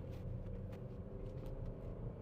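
The engine of a 2024 Suzuki Grand Vitara drones steadily with low rumble under full throttle, a continuous motor noise heard from inside the vehicle, without clear rises in pitch.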